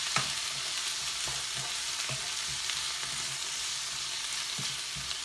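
Ackee and salt fish sizzle steadily in a pan while being stirred, with scattered soft scrapes and taps of the spoon over the constant frying hiss.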